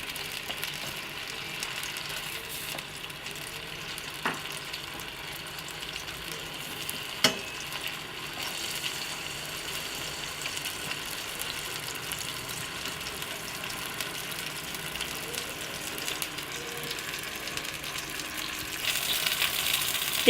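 Food frying in a pan for Sindhi fish curry gives a faint, steady crackle that runs throughout, with a few isolated clicks and a slight swell near the end and no speech.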